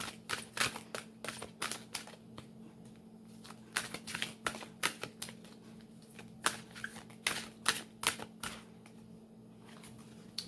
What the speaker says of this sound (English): we're going to get from the Angels of Abundance deck. We're going to pull a card.